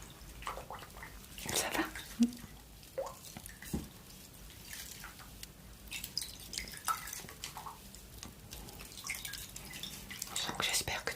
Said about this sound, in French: je vais te rincer toujours avec le petit gant